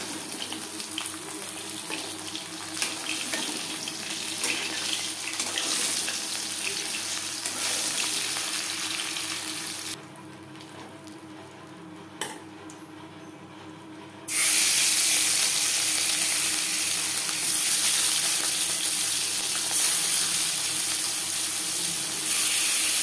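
Bhangor fish frying in a pan with a steady, close hiss of oil that drops quieter for a few seconds midway, then surges back louder and continuous; no talking.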